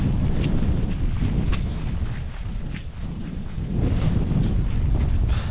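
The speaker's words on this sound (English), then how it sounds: "Hopefully this GoPro is doing a job of keeping the wind out." Strong wind buffets a microphone on an exposed hilltop in the Brecon Beacons, a steady loud roar with gusts swelling and easing throughout, no voices.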